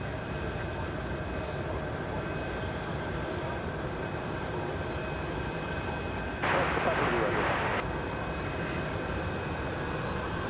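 Alaska Airlines Boeing 737-800 taking off from DFW Airport, a sustained engine roar and rumble under the whole stretch, with a brief louder hissing burst partway through.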